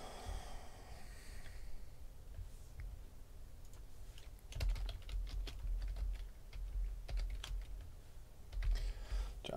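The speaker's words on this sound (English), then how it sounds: "All right, type in the cards right now." Rapid clicking of computer keyboard keys being typed, with irregular bursts of keystrokes over a low background rumble, fairly close and moderately loud, no voices.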